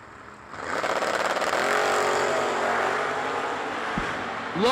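A wheel-standing Camaro drag car at a drag racing event, its engine building to a loud sustained roar with a rising pitch, then a brief second rev at the end.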